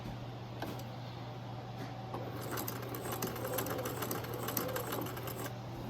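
A sewing machine stitches a shirt placket, running a steady close whirring hum with fast mechanical needle clatter throughout, no voices.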